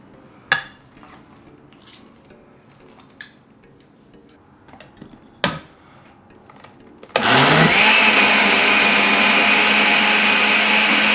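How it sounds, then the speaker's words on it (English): A kitchen blender starts up suddenly and runs loud and steady, whirring through soaked bread for mole, after a few sharp clinks and knocks of dishes and utensils. "This bread's going to go right in the blender, but it needs to soak just a little bit before it blends up really well."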